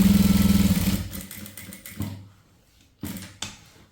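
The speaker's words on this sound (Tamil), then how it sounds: "இங்கேயும் அதே மாதிரி மடிச்சுட்டு இந்த குறுக்கால ஒரு தையல் போடுறோம்." A sewing machine runs a fast, even stitching burst while stitching across a saree fall, loud at first, then dropping to quieter short bursts and pauses.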